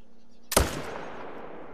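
A single sharp rifle shot from a .300 hunting rifle cracks out close and loud, followed by a long decaying echo rolling across open terrain.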